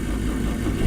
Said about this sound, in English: After the madness, unbelievably, the car still started.